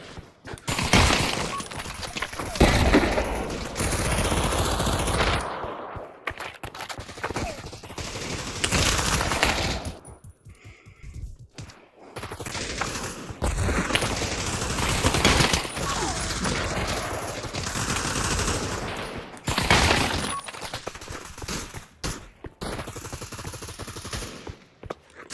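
Dense, continuous gunfire from the video game Pavlov, with rapid automatic bursts and fusillades filling most of the stretch, broken by a few short lulls, loud and close throughout.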